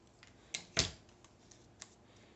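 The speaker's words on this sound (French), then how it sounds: "Et je vais venir couper avec des ciseaux d'un coin à l'autre." Scissors cut across paper from corner to corner in a quiet room, making a few sharp, close snips with one louder crisp cut in the middle and faint clicks after it.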